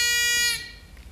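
A floating dog safety device sounds its buzzer, a loud bright electronic tone that holds for about half a second and then cuts off, leaving a quiet fading tail.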